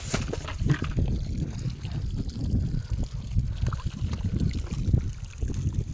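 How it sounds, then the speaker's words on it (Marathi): Water rushing from a motor-fed pipe into a 300-litre barrel on a farm, a steady low churning gush that sits close and fills the whole clip without pause. "पाणी जोरात येईल"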